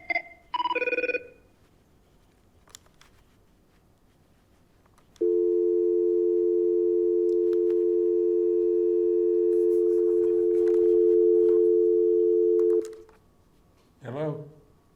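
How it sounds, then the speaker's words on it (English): An incoming call rings on a telephone as one long, steady electronic tone lasting several seconds, clear and close, with short bits of speech just before and after it. "we got a phone call coming in here"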